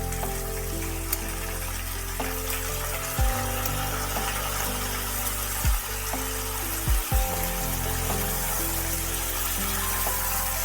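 Onion paste is stirred into potatoes and peas frying in oil for a lemon aloo dum, producing a continuous close sizzle over a low steady hum, with a few brief louder knocks.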